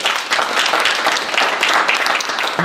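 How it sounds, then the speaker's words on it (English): An audience at a youth forum applauds the speakers with steady, dense clapping that holds at full strength for the whole stretch. "So can you please give these brothers a round of applause?"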